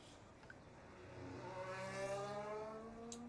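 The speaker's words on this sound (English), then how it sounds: "So we hear engines on the way out of the pit lane" Race car engines in a sim racing game howl out of pit lane, pitch rising through the gears, fairly loud and steady with no talk over it.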